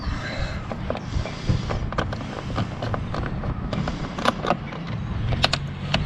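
Screws being unscrewed from the toolbox of a KTM 1290 Super Adventure R motorcycle, with small metallic clicks and creaks of the tool turning, close up over a steady background hum, no talk.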